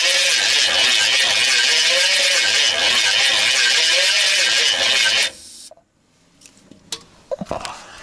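GMC Vandura van engine making a strange, unhealthy-sounding noise at startup: a loud, rough, rasping mechanical drone that runs steadily for about five seconds, then cuts out, followed by a few faint knocks and clicks.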